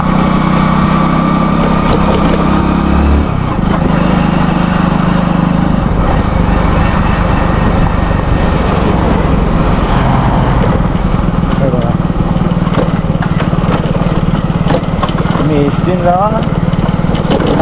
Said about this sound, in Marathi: एक असा गाडीचा आवाज द्यायला लागला